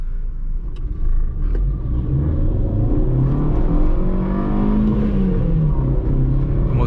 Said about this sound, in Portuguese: O motor, ele ronca nervoso, né? Você vê que sobe de giro bravo.